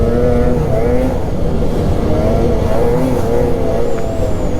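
Snowmobile engine on an opening-day trail ride in Vermont, a turbocharged 2024 XRS Comp with a 650 build, droning loudly and steadily with small shifts in pitch as it revs, close and alone without talk.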